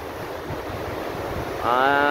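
Steady wind and surging sea waves roar together on the Davao Gulf, with a rumbling swell building toward the end.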